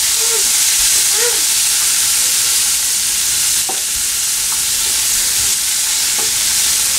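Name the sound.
sautéing fresh green peas in a pan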